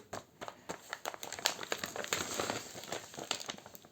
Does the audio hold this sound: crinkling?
yes